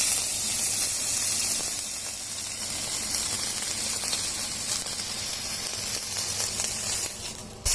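Outside of a sous vide roast beef being seared, a steady, fairly loud hissing sizzle lasting throughout, with a brief disturbance near the end.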